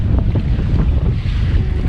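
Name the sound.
wind on a sailboat's sails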